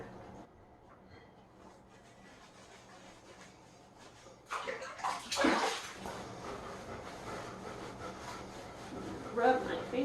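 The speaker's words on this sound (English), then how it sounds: "Get it a nice lather all over his back." Soapy water splashes and sloshes in a bathtub while a kitten is lathered and rubbed down its back, with soft wet rubbing and a louder splash midway, under quiet talk.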